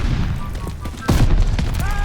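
A burst of heavy shotgun fire in Call of Duty: Vanguard, loud booming shots in quick succession with a sharp blast about midway, continuing at close range.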